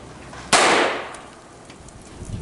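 A single sharp gunshot from a .22 LR Smith & Wesson pistol cracks nearby, followed by a brief decaying echo that fades over about a second into quiet outdoor background.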